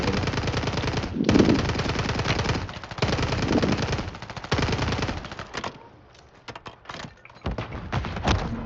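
Video game gunfire during a Warzone Plunder match, long bursts of rapid automatic fire with brief pauses, then scattered single shots and shorter volleys, loud and up close.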